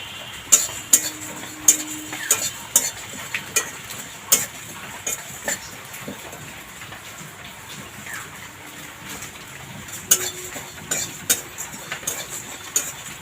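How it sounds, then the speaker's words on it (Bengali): Dried spices and two dried red chillies being stirred in a dry wok while roasting for chalta pickle, with a series of sharp clinks and taps of utensil on metal over a quiet background. "শুকনো কড়ার মধ্যে এগুলো দিয়ে নেড়ে নেবো সবগুলো কড়ার মধ্যে দিয়ে দিলাম এবার একটু ভেজে নেবো মশলাগুলো"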